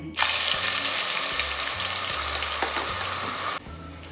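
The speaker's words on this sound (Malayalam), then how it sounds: "നമ്മൾ ഇളക്കുന്ന സൗണ്ടൊക്കെ പ്രേക്ഷകർ കേൾക്കണം" Ground spice paste with cumin and whole spices such as cinnamon and cloves sizzles loudly in hot oil. A spoon scrapes and stirs through it in a steady, close rush of frying that cuts off abruptly near the end.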